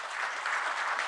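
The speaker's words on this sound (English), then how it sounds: "a big round of applause for the admissions team" A brief burst of dense audience applause at a college orientation, a steady close wash of many hands clapping with no voices over it.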